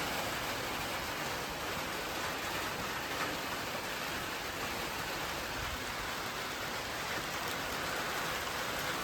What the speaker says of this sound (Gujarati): વરસાદ જબરજસ્ત પડો.